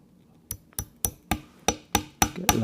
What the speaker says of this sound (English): Get the last nail in.